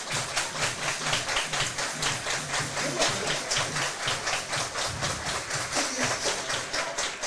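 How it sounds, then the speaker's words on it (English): A baseball crowd at a Chatham Barnstormers versus Hamilton Cardinals game keeps up steady rhythmic clapping and cheering, a continuous dense wash throughout. "Crowd very much into it."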